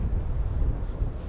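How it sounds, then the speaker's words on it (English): Strong wind gusts buffet the microphone outdoors, a constant low rumbling roar that swells and dips unevenly over a short stretch, with no voices. "Now the wind's so strong, I think you're going to struggle hearing me"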